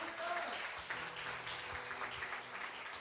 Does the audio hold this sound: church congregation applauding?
yes